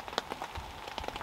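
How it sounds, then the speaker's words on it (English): Rain patters on a camping tent in the fall wilderness during a windy storm, a dense, irregular spatter of close drops with a few sharper taps over soft background noise, and no voices. "Oh, so it's starting to rain and we're just chilling in the tent."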